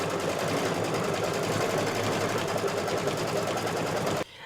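An embroidery machine stitches all-over background stippling on a Santa table runner, a steady, fast mechanical chatter running loud and unbroken before cutting off abruptly near the end.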